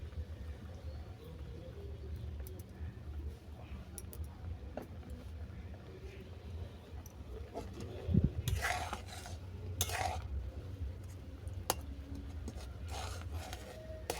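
A spoon stirs sweet potato payesh with palm jaggery in a pot, giving soft, intermittent scraping and rubbing strokes at low volume, with a few firmer scrapes midway through.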